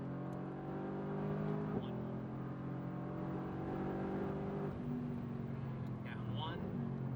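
A Mercedes AMG GTR on a racing circuit pulling under full throttle, a steady droning engine tone that climbs in pitch and drops briefly at a gear change, heard inside the car with an instructor talking over it.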